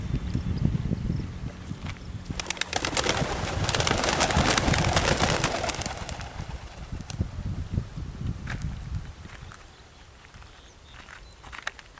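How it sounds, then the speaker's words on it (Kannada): Male racing pigeons released for a 40 km training flight take off together in a burst of wing flapping, loudest in the middle and then thinning out, with light scuffing and faint cooing around it. "ಮೇಲ್ಸ್ ಬರ್ಡ್ಸ್ನ ರಿಲೀಸ್ ಮಾಡ್ತಾಯಿದ್ದೀವಿ."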